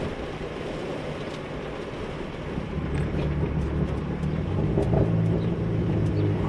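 A retuned car's exhaust, fitted with silencers inside the pipes, gives a steady low rumble with a broadband rush of road and wind noise that builds slightly in the second half, no voices.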